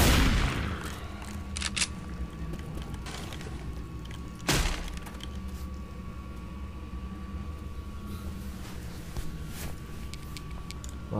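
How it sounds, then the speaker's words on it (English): Automatic shotgun blasts in the Craft4Dead2 game, sharp loud reports at irregular intervals over a dense bed of game noise and a steady tone. "Auto shotgun!"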